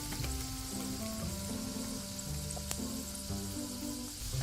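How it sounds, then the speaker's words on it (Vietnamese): Triangular folded pastries frying in a pan of hot oil, giving a steady, close, continuous sizzle and bubbling with no one talking. "để bánh vô chiên đi"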